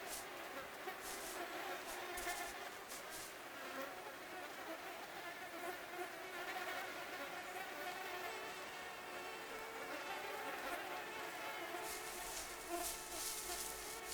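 A dense swarm of insects whines and buzzes near spruce trees in a northern forest, a constant high droning hum of many wings, moderately distant and steady throughout, with no voices.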